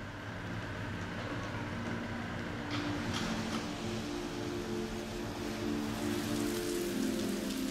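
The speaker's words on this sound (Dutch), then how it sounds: "Onderweg begint het te regenen." Steady rain falling outdoors along a path in Norway, a dense even patter of drops with a low background rumble, continuous throughout and without voices.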